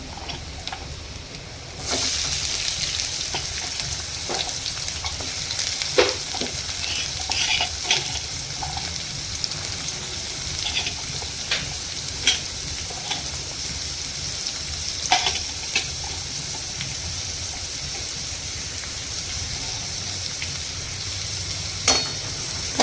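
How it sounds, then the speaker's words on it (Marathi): Green chili and onion hit hot oil in a pan for kanda poha, setting off a loud, steady sizzle that holds throughout, with a few sharper crackles and pops. "आता मिरची टाकायची आणि आता कांदा टाकायचा"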